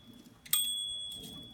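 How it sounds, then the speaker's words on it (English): A 1936 Underwood Universal typewriter's carriage bell gives a single bright, clear ding that rings on and slowly fades, preceded by faint mechanical shuffling. "It's a very nice bell on this machine, which is always satisfying to listen to."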